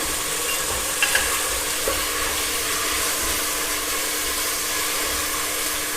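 Mutton biryani masala sizzles and fries steadily in a pan, a continuous hissing crackle with a few faint clinks of stirring near the start and no talking.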